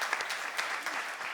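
A church seminar congregation claps together in a brief, dense burst of steady applause that holds at an even level.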